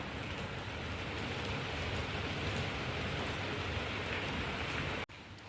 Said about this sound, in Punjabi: ਮੀਂਹ ਪੈਣ ਲੱਗ ਗਿਆ